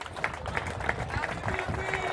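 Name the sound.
applause for the kiosk owner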